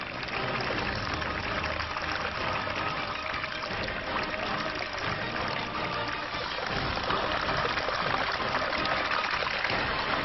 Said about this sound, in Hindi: बाद में यहाँ जलकुंड बन गया और पानी की धारा बहने लगी।